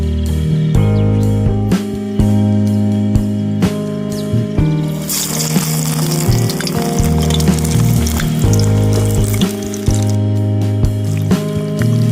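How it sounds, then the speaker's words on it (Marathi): Fish fries in a pan outdoors by Borgao Lake, a broad crackling sizzle that swells in the middle and then settles, heard beneath steady tonal background music. "चला तर आता आपण फिश फ्राय करूया."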